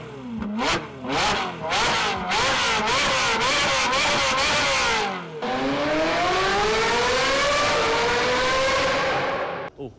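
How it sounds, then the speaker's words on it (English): A Ferrari 458 supercar with an FI exhaust revs hard and loud several times in quick bursts, then holds a long rising high-rpm wail, close by and outdoors. "the FI exhaust is insane"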